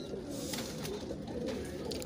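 Ash-colored Imam Deen pigeons coo in soft, low, throaty calls that overlap closely in a brief, continuous burst.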